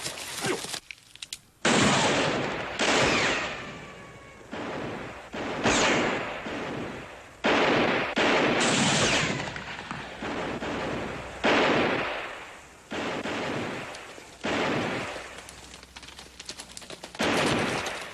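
Gunfire on a western ranch fence line, volleys of loud rifle and pistol shots in bursts and rapid strings with short gaps between them.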